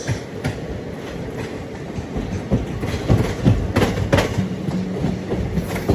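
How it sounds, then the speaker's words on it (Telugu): Tirupati Kakinada Express hauled by a WAP-4 electric locomotive rolls past, a loud steady rumble of rail cars with rhythmic clickety-clack wheel beats throughout. "ఇది వ్యాప్ 4 లోకోమోటివ్."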